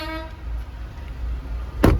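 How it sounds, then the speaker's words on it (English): A passing truck sounds a brief horn tone at the start, fading away over steady low road rumble, with a short sharp burst of noise near the end. "Sorry, that was a truck."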